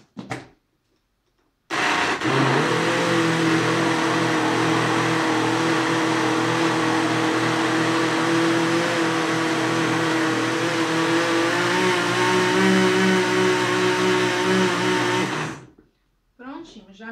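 An electric mixer beats banana cake batter with a steady, loud motor whine that runs unbroken for about thirteen seconds, then cuts out.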